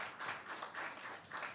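Conference audience applauding panelists at a finance forum, a thin, scattered patter of hand claps that swells and fades in short waves, faint and somewhat distant.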